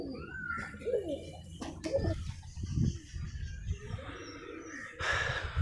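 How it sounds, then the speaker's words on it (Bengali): Two domestic pigeons are released to fly. Soft cooing and clucking carry throughout, with short fluttering bursts that sound like wingbeats, all at moderate to faint level. "দুটো পায়রাকে উড়িয়ে দিলাম"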